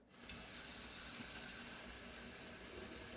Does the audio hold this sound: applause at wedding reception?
no